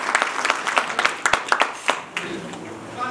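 Applause from a small crowd at a community fundraiser, individual sharp claps standing out in an uneven patter that thins toward the end.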